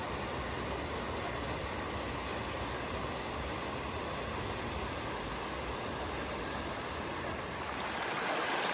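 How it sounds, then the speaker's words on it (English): A jungle stream on Siquijor Island in the Philippines rushes steadily, a dense unbroken wash of flowing water that stays close and loud from start to finish with no voices. "we're going to walk up the stream in knee-deep water, sometimes waist-deep"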